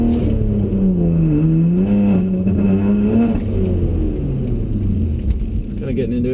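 Inside a BMW 135i fitted with a prototype exhaust, the engine drones loud and steady, rising and falling in pitch as it revs up to about 4,500 RPM, while the deep exhaust rumble runs throughout.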